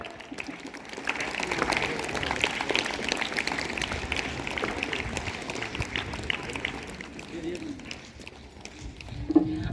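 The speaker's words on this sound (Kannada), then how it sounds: "ನಾಲ್ಕನೇ ತರಗತಿಯ ವಿದ್ಯಾರ್ಥಿಗಳಿಗೂ ನಮ್ಮದೊಂದು ಪುಟ್ಟ ಚಪ್ಪಾಳೆ." A school assembly applauds fourth-grade students at a Kannada Rajyotsava celebration. The clapping from the crowd is sustained and moderately loud, mixed with voices and hall murmur, and it tapers off near the end.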